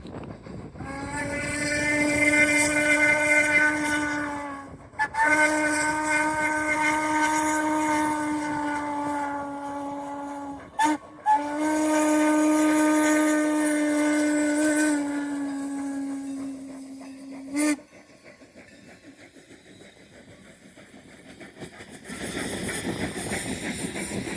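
Long, loud blasts of a steam locomotive whistle at a grade crossing on the Strasburg Rail Road in Pennsylvania, held tones broken by brief gaps, with a steady chugging rumble underneath.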